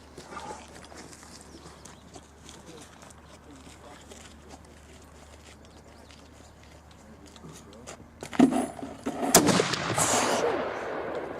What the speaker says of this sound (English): You got a cross over there in the scope and you can just shoot it